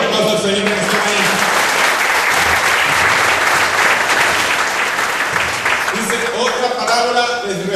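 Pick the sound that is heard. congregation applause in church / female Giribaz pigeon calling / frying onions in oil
congregation applause in church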